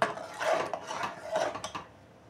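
A spoon stirs mutton mince into khichuri in a pot, making close scraping and rubbing sweeps in two or three strokes that fade out.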